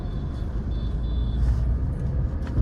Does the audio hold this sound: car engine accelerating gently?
yes